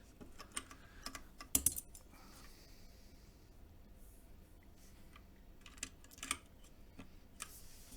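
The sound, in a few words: typing on JD40 carbon fiber mechanical keyboard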